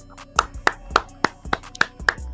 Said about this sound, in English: I'm clapping it up, dog.